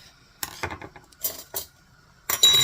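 Metal cutlery, a spoon and a small knife, is pulled out of a kitchen drawer in a home kitchen, giving several close, sharp clinks and rattles in quick bursts with short pauses between them, no talking.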